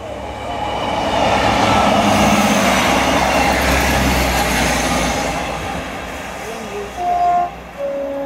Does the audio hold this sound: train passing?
yes